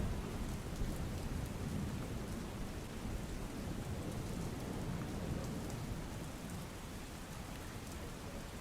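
Steady rain falls during a renewed spell of wet weather in Dantiwada, Banaskantha, a dense, even hiss with low rolling rumbles of thunder underneath, continuous for the whole stretch with no voices.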